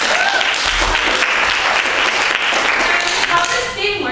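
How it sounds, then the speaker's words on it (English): Loud, sustained applause from a hat show audience fills the whole stretch, dense clapping that thins slightly toward the end. "Let's give them a round of applause."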